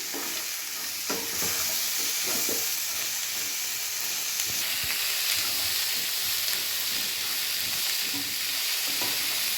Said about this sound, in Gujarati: લાલ મરચાં અને જે આપણે ટમેટાં ટુકડા કરેલા છે તે નાખીશું. આ બધી વસ્તુ આપણે સાતળી લેશું.